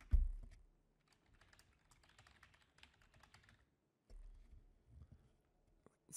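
Keys clack on a computer keyboard as an email address is typed in two quick bursts separated by a short pause, close and fairly soft in a quiet room with no talking.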